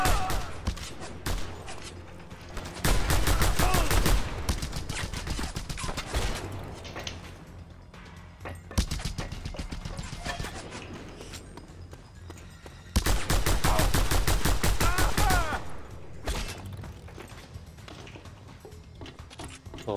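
Machine gun fire in the video game Just Cause 2, two long sustained bursts of rapid automatic shots, loud and close, with scattered single shots and mechanical clatter between them.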